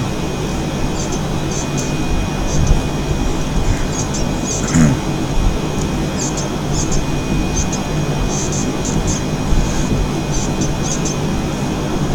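An F-18 in a flight game runs at full throttle down the runway, a steady, dense engine roar that holds constant and close, with faint high tones and light clicks over it.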